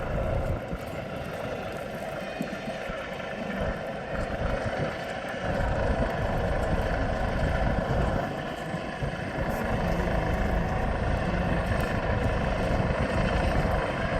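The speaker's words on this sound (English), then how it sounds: "the downdraft from the helicopter rotors is quite dramatic" A Coastguard helicopter hovers over an RNLI lifeboat at a Llandudno open day, its loud continuous rotor thrum and engine whine sustained close by, swelling slightly in the middle.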